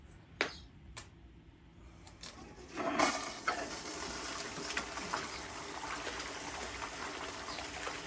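Water running through a Gold Fox gold trommel while gold digging, starting with a few sharp knocks and then swelling into a steady rushing trickle and splash that stays fairly close and continuous to the end.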